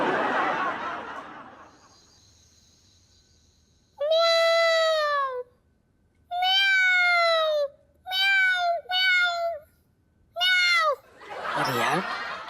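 Someone imitates a cat, several drawn-out meows in a row with short pauses, loud and close, with laughter before and after.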